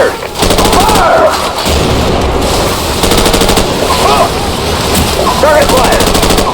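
Rapid automatic gunfire bursts rattle loudly and almost continuously in a Call of Duty 4: Modern Warfare battle, with shouted voices breaking through between the volleys.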